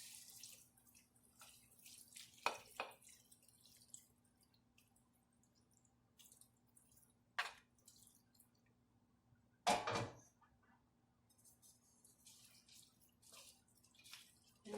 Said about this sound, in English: we're just going to pour that all over the pan